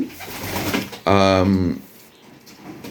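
Pigeons in a breeding aviary, among them dark checker cock birds, give one loud, close, throaty coo lasting under a second, rising out of soft background rustle and fading back to quiet.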